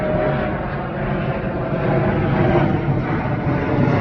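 A Porter airliner passes overhead with a loud, continuous engine roar and rumble that holds steady and close throughout, with no voices.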